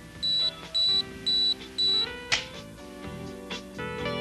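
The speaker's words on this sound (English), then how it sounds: "The self-timer counts down the moments until shutter release with a flashing LED and an electronic" An Olympus XA camera's self-timer sounds four evenly spaced electronic beeps, then the shutter releases with a sharp click, followed by softer mechanical clicks in a quiet setting.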